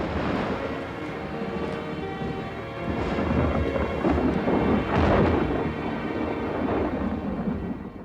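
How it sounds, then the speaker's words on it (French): A thunderstorm rolls on with deep, continuous thunder rumbling and surging louder midway, over a steady wash of rain, with no voices. "Tu restes pas pour regarder l'orage?"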